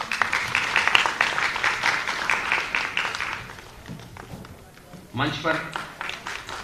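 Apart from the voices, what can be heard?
audience applause welcoming guests at an award ceremony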